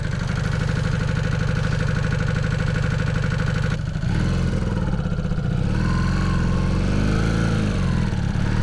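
A Honda CB250 Super Dream motorcycle engine, faulty and unable to rev past 5,000 RPM, runs loud and close at a steady pulsing speed, then drops in pitch and wavers through uneven blips of throttle.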